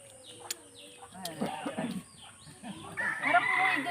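A fighting rooster kept for cockfighting clucks and crows close by in a farm setting, with a few sharp clicks and people talking in the background.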